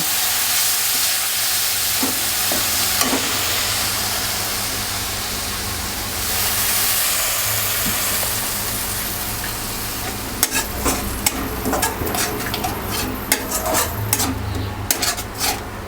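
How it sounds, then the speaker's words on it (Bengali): Spices frying in a pan for a tomato katla fish curry: a continuous sizzle, then rapid scraping strokes of a spatula against the pan in the second half. "গ্যাসটা আবার বাড়িয়ে দিলাম মশলাগুলো ভেজে নিচ্ছি"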